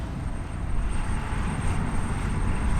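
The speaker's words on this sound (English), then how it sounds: "That's a churning turbine," A loud, steady mechanical roar with heavy low rumble from a churning turbine at a gas well, sounding like a jet engine running nonstop nearby, with no talk over it.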